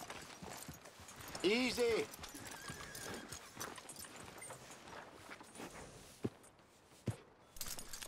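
Hooves of a horse in Red Dead Redemption 2 clip-clop lightly and intermittently behind spoken dialogue, with a whinny-like cry early on and a couple of sharper knocks later.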